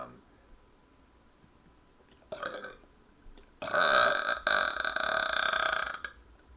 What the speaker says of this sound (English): they don't have time to sit here listening to me burp